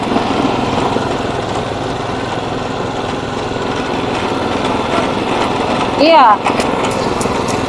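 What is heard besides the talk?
engine-driven sugarcane juice machine running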